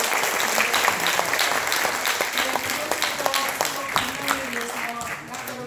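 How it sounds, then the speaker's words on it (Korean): Audience applause at a gathering in the National Assembly, a sustained crowd of clapping hands with a few sharper near claps and a voice briefly audible beneath it, easing slightly toward the end. "힘써주신 우리 허병기 교수님께 다시 한번 큰 박수 부탁드립니다."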